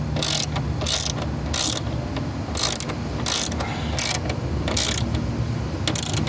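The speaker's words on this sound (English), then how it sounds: "Now we can go ahead and tighten the other bolt" Ratchet tightening a bolt on an oil catch can, a rapid, close clicking of the pawl in repeated bursts of strokes over a continuous mechanical hum.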